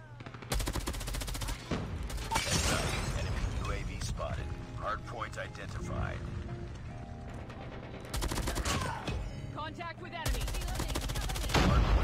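Bursts of M13 rifle fire in Call of Duty Mobile, loud rapid automatic volleys at the start and end with scattered shots and game effects between, a voice talking over part of it.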